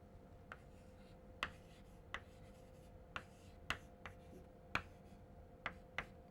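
Chalk or marker on a board during a lecture: a string of sharp, faint taps and short strokes at irregular intervals over quiet room tone, with no voice over them.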